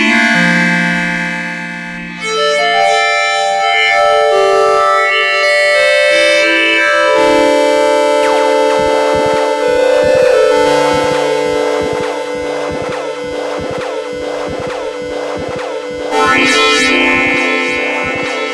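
An Arturia MiniFreak synthesizer's macro touch strip sweeps its wave and timbre, so dense sustained tones shift and morph continuously. The sound is loud and bright with gritty, distorted harmonics, and swells again near the end.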